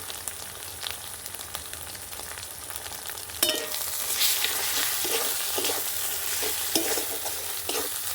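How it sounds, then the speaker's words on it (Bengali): Spice masala for ghugni frying and being stirred in a pan, a steady sizzle with scraping strokes that swells louder and fuller after a sudden clatter partway through, close and unaccompanied by any voice. "সবগুলো দিয়ে ভালো করে কষিয়ে নিচ্ছি মশলাটা আমার ভালো মতো কষা হয়েছে"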